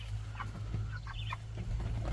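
A Cornish Cross hen clucks softly and intermittently over a steady low hum, with a few short, close calls and no voices.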